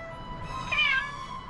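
A kitten stuck up a tree gives a single short, high meow, close and fairly clear over faint background hiss.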